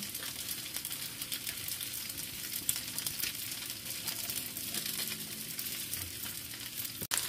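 Instant fried rice sizzles and fries steadily in a hot pan, a continuous close crackling hiss with occasional scraping stirs and a sharp clack near the end, no talking.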